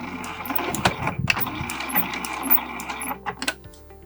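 A sewing machine stitching a short back stitch on a small tote bag, a quick burst of rattling needle strokes with clicks and a brief mechanical whir, close and moderately loud.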